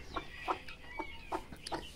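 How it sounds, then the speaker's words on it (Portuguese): A hen on a small farm clucks in a steady run of short, close, soft calls spaced about a third of a second apart, with faint chirping in the background and no talking. "Vamos chamar a galinha ali."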